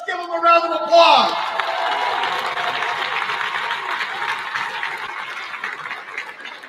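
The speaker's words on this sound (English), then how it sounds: "Stand up and let's give them a round of applause." An audience at an Iowa caucus rally breaks into loud, sustained applause with scattered cheers, swelling just after a voice finishes speaking and continuing steadily to the end.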